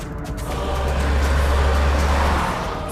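A car drives along with a steady, heavy low engine and road rumble that swells slightly and then eases, with no talk over it.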